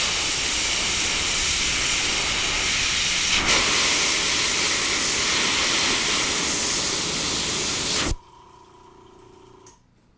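A continuous loud spray hisses for about eight seconds while a light layer of blue paint goes onto a cloud-making project, then cuts off abruptly, leaving a faint hum.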